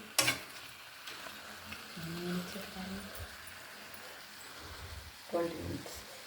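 Chicken curry cooks in a pan with a soft, steady sizzle, punctuated by a few sharp clinks and stirring scrapes, quiet and close.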